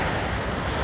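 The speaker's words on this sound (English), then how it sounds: "It's got some water running underneath it." Water running beneath a mill at night, a continuous broad rushing wash with wind buffeting the microphone, steady and loud for under a second.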